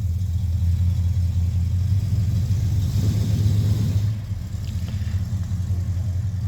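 A panel van's engine rumbles close by at a steady low idle and mid-rev drone, then eases off and fades slightly as the vehicle pulls away, no talk.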